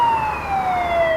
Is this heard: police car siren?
yes